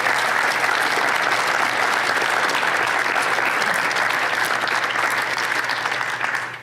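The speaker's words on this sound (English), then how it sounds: "Can you give him a round of applause?" A church congregation gives a visiting guest a round of applause, the clapping thick and continuous at a loud, steady level before tapering slightly at the end.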